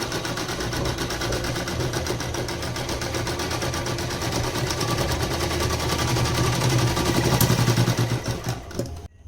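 A sewing machine stitches a fall onto the edge of a saree in one loud, close, continuous rapid rattle and whir that runs steadily and then stops abruptly at the end.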